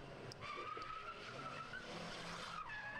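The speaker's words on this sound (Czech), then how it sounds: "Nemá předělaný auto na drift a snaží se jet" An unmodified car drifting away from a car meet, its tires squealing in long wavering tones over a steady engine roar, loud and close.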